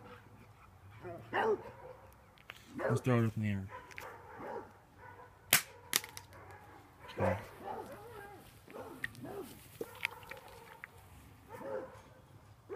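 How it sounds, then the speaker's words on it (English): Several sharp dog barks, one loud and close, scattered among a man's speech and some clatter in a room. "Those are my dogs. They're barking at something."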